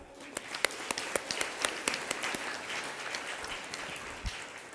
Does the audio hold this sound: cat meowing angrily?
no